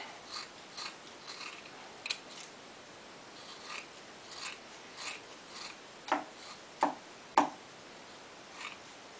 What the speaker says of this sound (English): now we're going to cut it just right on the line.